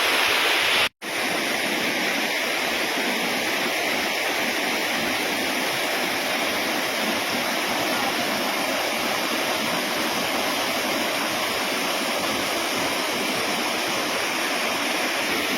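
Anayadikuthu waterfall at Thommankuthu roars as a dense, unbroken rush of falling water, loud and close, holding steady throughout apart from one momentary dropout near the start.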